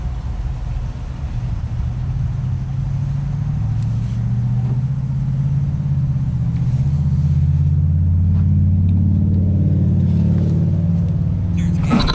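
An Allis Chalmers 410 engine starts after sitting eight years and runs with a loud, steady low rumble that rises slightly in pitch toward the end, with a few clanks over it.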